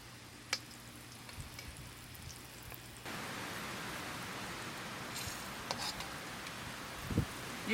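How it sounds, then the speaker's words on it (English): Eggplant pan-frying in hot oil in a wok, a steady soft sizzle that jumps louder partway through and keeps hissing evenly, with a few faint clinks near the end. "And I'm going to pan fry it."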